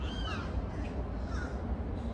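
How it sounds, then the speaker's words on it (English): Crow cawing just outside a window, a loud harsh call resembling a child's scream, repeated a couple of times over steady low background rumble. "it sounds like a kid screaming, that's the bird."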